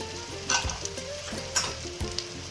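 Potatoes, beans, carrots and green chillies sautéing in a pan for noolappam, with a steady sizzle and a few louder stirring scrapes and clatters recurring about every half second to a second.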